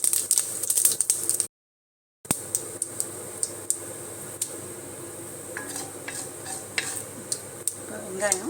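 Bitter gourd sautés in a pan with coconut and mustard seeds, a soft sizzle under repeated scraping and clinking of a spatula against the metal, broken by a brief silent gap; faint voices in the background.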